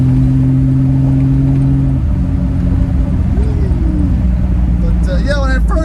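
A Triumph TR6 cruising on the highway in overdrive at about 2,500 rpm gives a steady, loud low engine drone with road rumble, and a voice briefly surfaces near the end.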